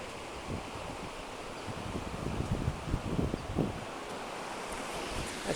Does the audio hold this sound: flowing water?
yes